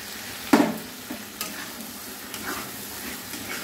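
Masala paste dropped into hot oil for a potato and pointed gourd korma gives one loud sizzling splash, then softer stirring scrapes and a steady low frying hiss.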